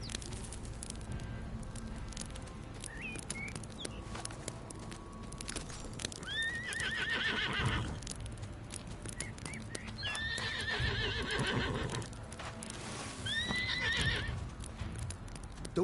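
A horse whinnies loudly several times, high shrill calls rising and falling, over steady hoofbeats clopping close by.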